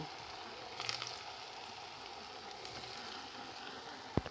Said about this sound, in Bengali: আমি চপগুলো তেলের মধ্যে একে একে দিয়ে দেবো আর আমি এপিট ওপিট করে হালকা আঁচে আমি ভেজে নেব